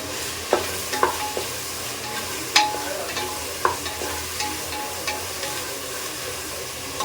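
Vegetables and curry leaves sauté in a pan for a black-eyed pea kuzhambu, a steady moderate sizzle punctuated by a few sharp spatula taps and scrapes.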